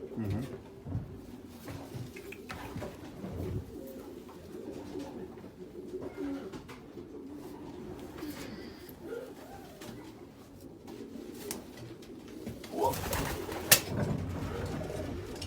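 Racing pigeons coo softly and intermittently in a loft, with some rustling and a sharp knock near the end; faint talk in the background.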